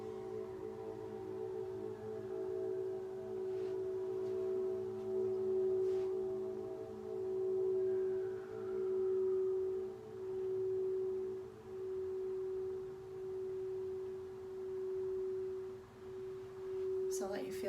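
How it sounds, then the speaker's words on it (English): A Crystal Tones practitioner crystal singing bowl rings with one sustained, pure, steady tone and a slowly pulsing swell, heard close and clear on its own for the whole stretch. "This is a practitioner bowl. This one's made by Crystal Tones."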